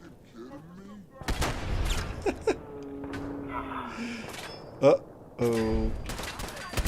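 Fallout 4 gun blasts from a short-range weapon come as a few sharp, loud reports spaced apart, with synthetic electronic tones and a person speaking and reacting between shots.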